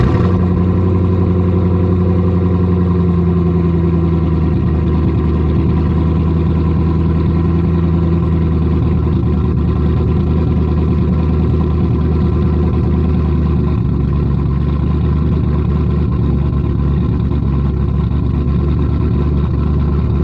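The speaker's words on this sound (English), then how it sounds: "The last ever cold start of the C5 Corvette" A C5 Corvette engine idles steadily after a cold start, a loud, close, continuous low rumble with a slight settling of pitch partway through and no talking.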